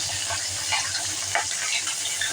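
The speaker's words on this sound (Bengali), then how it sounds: "দেখো, মাছ ভাজাটা হচ্ছে" Fish sizzling in a hot pan for a choi stem curry, a loud continuous frying hiss with scattered pops and spatters throughout.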